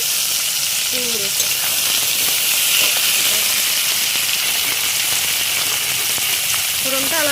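Onion, potato and pumpkin fry in hot oil with a steady, loud hiss and sizzle that holds throughout, with faint clinks of a utensil now and then.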